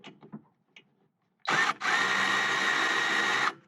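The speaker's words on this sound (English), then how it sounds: "let's see if my power ratchet has enough power to pop that off" A power ratchet working a brake bolt loose on a Toyota Camry rear disc brake job, a steady high mechanical whir running about two seconds after a short stutter, close and loud, following a few faint taps.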